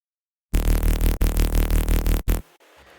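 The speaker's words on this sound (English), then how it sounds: "And the response, it's actually a variation of the call bass." A loud Serum synth response bass, a variation of the call bass, plays in a few sustained, pulsing notes with short cuts between them, then stops abruptly into a faint tail.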